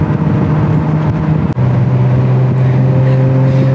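Ferrari Monza SP1 driving toward the sunset, its engine a loud steady drone heard from inside with one brief dip midway, as if during a gear change, and no talking.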